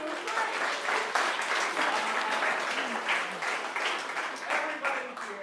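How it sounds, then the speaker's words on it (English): A live improv show audience breaks into sustained applause, dense clapping from many hands filling the room at a loud, even level for several seconds with no talking on top. "give yourself a round of applause"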